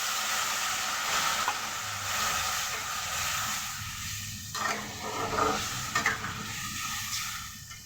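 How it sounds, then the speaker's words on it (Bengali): Bengali fish curry broth coming to a boil in a pan, a soft steady hiss and simmering bubble with occasional stirring or clinking bursts, fairly quiet and close. "ঝোলটা ফুটতে আরম্ভ করেছে"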